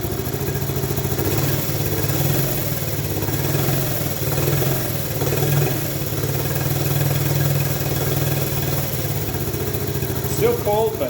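A Honda ATC70 three-wheeler engine, still cold, idles steadily and close by with a quiet, even putter throughout, while a person talks over it.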